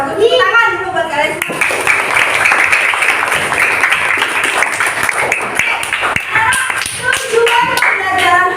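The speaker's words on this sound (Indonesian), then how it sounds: "Tepuk tangan dulu buat kalian." Schoolchildren in a classroom burst into steady, loud applause that lasts several seconds, with a teacher's voice heard briefly before and after the clapping.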